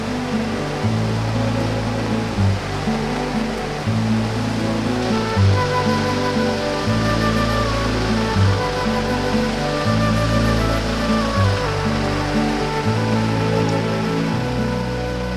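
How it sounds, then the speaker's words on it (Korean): Heavy monsoon rain pours onto a river during a long rainy season, a dense, loud and continuous hiss of water with no voices. "장대비는 푸른 강물을 분탕질 치고 고요하던 강물이 사나워졌다"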